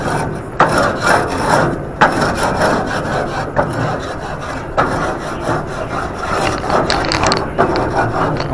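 Wooden scraper rasping across a gas grill grate, loud close repeated scraping strokes with sharp starts every second or two.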